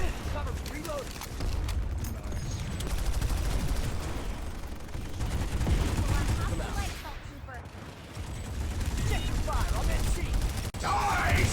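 Rapid gunfire from a Planetside 2 firefight, steady bursts of shots and explosions filling the whole stretch at high loudness, with a voice talking over the action.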